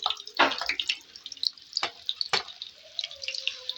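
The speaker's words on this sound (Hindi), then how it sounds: "अब हम इसके अंदर कबाब डालते हैं और इनको फ्राई करते हैं।" Chicken kebabs fry in hot ghee with irregular spitting, crackling and popping, fairly close and moderately loud, with no voices.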